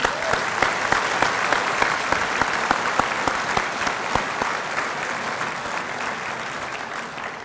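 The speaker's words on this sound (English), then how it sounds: "let's give all these people a round of applause" An audience at an anniversary banquet for a cattle breeding cooperative gives a full round of applause, dense clapping with crisp individual claps standing out, loud and steady before easing slightly toward the end.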